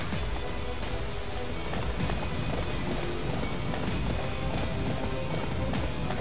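Horse hooves galloping in the PS3 game Attack on Titan, a steady fast clip-clop beat running continuously under dense game sound effects and music.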